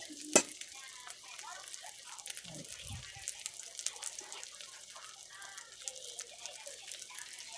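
Softened chicken feet dropped into a hot pan of onions for adobo, setting off a crackling sizzle with stirring clatter and wet drips, moderately close.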